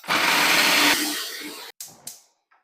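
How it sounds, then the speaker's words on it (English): A food processor whirs loudly as it chops cauliflower into rice, a dense steady motor roar for about a second and a half that cuts off abruptly, followed by a few short clattering bumps. "Just throw the cauliflower in the food processor"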